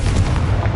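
The Confringo blasting spell in Hogwarts Legacy goes off as one short, loud, booming burst with a heavy low rumble.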